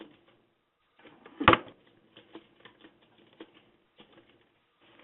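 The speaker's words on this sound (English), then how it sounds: "All I have to do is just type what I want to write." Keys tapped on a keyboard in irregular, fairly quiet clicks spread across several seconds, with one louder knock early on, in an otherwise quiet room.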